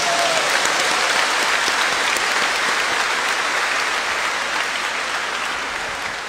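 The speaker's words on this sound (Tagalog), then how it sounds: "Kaya ang lakas ng palakpak, no?" Loud, dense applause from a church congregation at a parish gathering of lay leaders, steady hand-clapping filling the space for several seconds before tapering slightly at the end.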